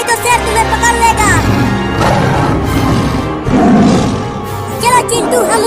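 Cartoon lion roaring, a loud growling roar heard close up amid dramatic effects and overlapping speech.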